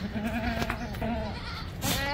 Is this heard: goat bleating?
yes